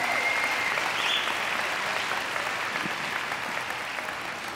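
Audience applause at a conference talk, a steady dense wash of clapping that fills the whole stretch at close range, with no talk over it.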